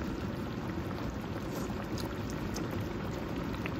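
Tuna bubbling in its own oil in a pan, with the tomatoes it is cooked with, makes a steady, dense, close sizzling hiss that fills the whole moment at an even level, with no one speaking.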